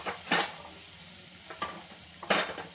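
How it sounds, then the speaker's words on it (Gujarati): Ginger-chili paste sautéing in a pan for aloo paratha, with a soft, steady sizzle beneath several louder scraping stirs of a spoon against the pan, close by and without talk. "હવે આપણે આને થોડું સાંતળી લઈશું।"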